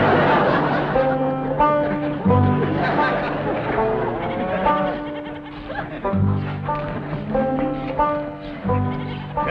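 Goats bleat in a stock pen in a wavering chorus of repeated cries, mixed with voices and laughter throughout.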